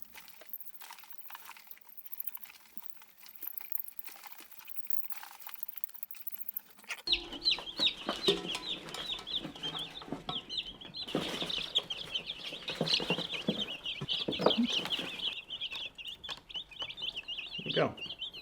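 Baby chicks in a brooder peep and chirp steadily, a dense continuous chorus of high calls starting partway through after a quieter stretch with faint handling noises, with occasional louder bumps.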